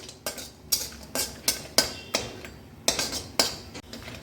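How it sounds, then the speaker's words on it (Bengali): Homemade lentil dumplings (bori) fried in a pan, heard as a quick series of sharp utensil clinks and scrapes against the pan at an uneven rhythm, fairly soft with no voices. "বড়ি কটা আমি ভেজে নেবো একটুখানি"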